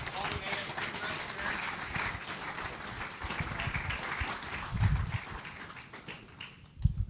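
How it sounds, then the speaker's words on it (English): Audience applause in an engineering lecture hall, a fairly faint, steady patter of many hands clapping over several seconds with a few louder thumps. "let's give Logan a round of applause and all the ASC reps"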